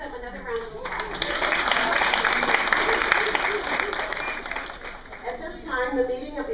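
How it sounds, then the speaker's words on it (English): Audience applause fills a conference hall at a women's political federation meeting, a sustained, dense wash of many hands clapping that swells early, holds steady, then tapers with a brief renewed burst near the end; a voice is faintly present underneath. "Can we give them another round of applause?"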